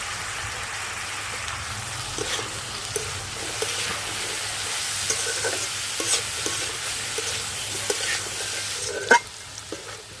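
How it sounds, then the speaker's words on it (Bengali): Diced potato and carrot fry in a pan with lightly fried onion, giving a steady soft sizzle broken by scraping stirs of a spatula and a sharp clink near the end, close by with no talking. "আলু গাজর ভাজা হয়ে গেছে"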